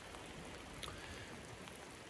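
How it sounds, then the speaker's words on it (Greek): Rain falls outdoors in wild, stormy weather over an open landscape, a steady, faint hiss of drops with no voices. "Βρέχει όπως βλέπετε Άγριος ο καιρός"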